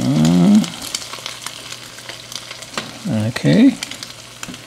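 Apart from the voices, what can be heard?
crab cakes frying in oil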